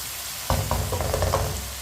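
Round gourd (tinda) sizzling in a hot pan for a home-cooked sabzi, a steady close frying hiss starting abruptly partway in, with a few light knocks of stirring against the pan.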